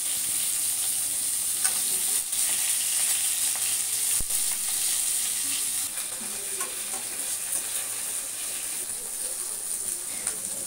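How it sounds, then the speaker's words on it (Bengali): Fish frying in hot oil in a home kitchen, a steady bright sizzle with crackling spits and a faint knock, close and continuous with no talk. "দেখুন প্রায় আমার মাছটা ভাজা হয়ে এসেছে।"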